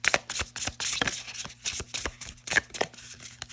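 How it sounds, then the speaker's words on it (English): Tarot cards with shiny gilded edges are riffle shuffled, close crisp bursts of rapid flutter and snapping clicks in quick repeated bouts, with no talking. "riffle shuffling these is a dream"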